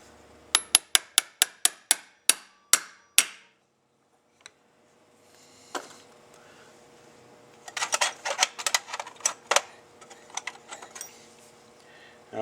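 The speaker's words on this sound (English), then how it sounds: "get your socket out, tap it down" A socket taps a seal down into a casting during an AC 6550 rebuild: a quick run of about ten sharp metallic taps, a pause, then a denser cluster of lighter clinks and knocks, all close and without talking.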